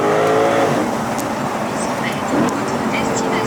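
A Lexus RC F engine roars and revs nearby in a street setting, a loud, dense growl dominating the scene while people talk over it.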